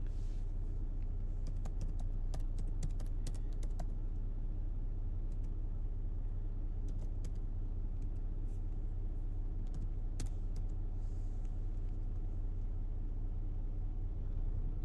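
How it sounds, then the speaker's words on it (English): Quiet clicks of typing on a computer keyboard in scattered bursts, sitting over a steady low rumble like a running engine or car interior hum. "Y'all can tell when I start typing in stuff"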